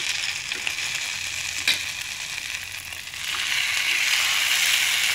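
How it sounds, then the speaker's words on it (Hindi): Bread slices for masala French toast fry in a pan over a lowered gas flame, a steady soft sizzle and crackle with one brief clatter, growing slightly louder toward the end. "पहले मैंने दो ब्रेड सेक लूँगी, उसके बाद मैं दूसरी ब्रेड डिप करूँगी"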